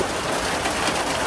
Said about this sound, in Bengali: বৃষ্টি তো থামতেই আছে না, বৃষ্টি পড়তেই আছে